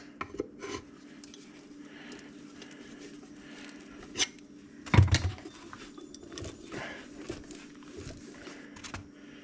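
A screwdriver works a zero-turn mower tire onto its rim, producing scraping and rubbing with scattered taps and one sharper knock midway, close and quiet.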